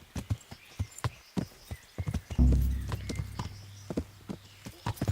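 Horse hooves clopping in the medieval game Kingdom Come: Deliverance, a steady run of sharp hoofbeats with a heavy low thump partway through and a lingering rumble, loud and close, no voices.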